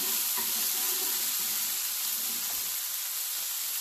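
Ginger and garlic hitting a hot pan give a steady, close hiss of sizzling, even and unbroken with no talk.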